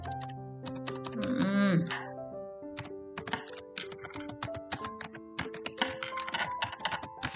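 Rapid clicking keystrokes on a computer keyboard come in quick irregular bursts across the whole stretch, close and fairly quiet, with a voice talking briefly over them early on.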